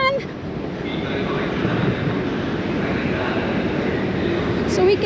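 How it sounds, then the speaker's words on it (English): A passenger train at a station on the route from Milan Malpensa to Tirano, Italy, rumbles and hisses steadily and loudly throughout, with a brief squeal near the end. "So we have validated our ticket, and this is the train."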